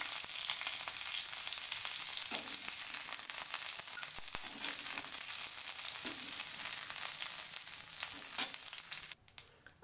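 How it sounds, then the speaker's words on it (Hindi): Potato and cauliflower fry in hot oil with a loud, steady sizzle and crackle that runs almost the whole time, then drops away sharply at the end. "ये देख लेते हैं आलू गोभी फ्राई हो गई है"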